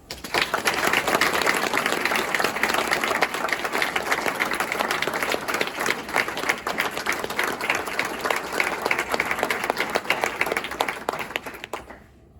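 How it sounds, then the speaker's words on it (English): A school board meeting audience applauds its athletes. The clapping is dense and steady, fairly loud and close, holds for about twelve seconds and then fades out at the end. "just want to give them one more round of applause"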